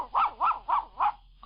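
Four evenly spaced dog barks in a 1944 Gaines dog food radio commercial, close and clear, each bark sharp and separated by brief pauses with no talk over them.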